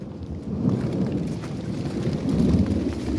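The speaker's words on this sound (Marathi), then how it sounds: "ढग पण खूप गरजत आहे" Thunder rumbling from heavy clouds over a watermelon field as rain begins, a steady, loud low roar that swells slightly toward the end, with no voices.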